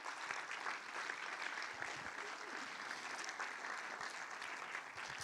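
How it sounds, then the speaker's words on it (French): Steady applause from an audience at a festival closing ceremony, a continuous wash of many hands clapping at a distance, fairly faint and even throughout. "Applaudissements pour Charlotte Masini"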